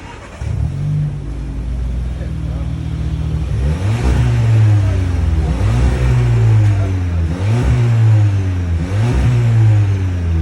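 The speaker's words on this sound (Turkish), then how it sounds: "son susturucu iptal olduğu zaman nasıl ses çıkar diye merak eden arkadaşları dinletmek için" A Seat Leon FR 1.5 engine with its rear muffler deleted idles close by with a deep, throaty exhaust rumble, steady and loud, with a slight rise in revs partway through.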